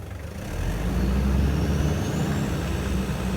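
A vehicle engine revving up, a low steady rumble that swells after the first half-second and holds at a raised, even pitch, close and without talk.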